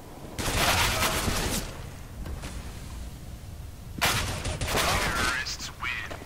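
Gunfire in the video game CS:GO comes in two dense bursts of rapid shots, one early and one later, with a quieter gap between them and a voice talking underneath.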